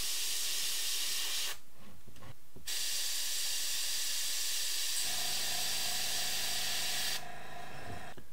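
An airbrush sprays black paint onto a bluegill fishing lure, laying down steady, close hissing bursts with a short pause near the start, then continuing in an unbroken hiss with no talking.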